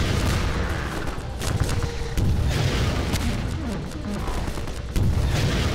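Rockets fire and explode in the video game Half-Life 2 during a fight with Striders, a dense, loud barrage of booms and blasts overlapping continuously.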